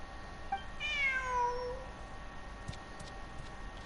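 A cat meows once in the video game Genshin Impact, a clear drawn-out falling cry over a low steady game ambience, with no talk.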